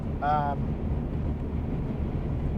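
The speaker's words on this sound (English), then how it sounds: "wind coming in from the side here" Wind buffets the microphone from the side on a mountain trail, a steady low rushing roar that fills the clip, with a brief voice near the start.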